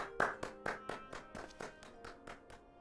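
Clapping in the video game Final Fantasy XIV, about a dozen evenly spaced crisp claps in a steady rhythm, fairly quiet and heard without talk.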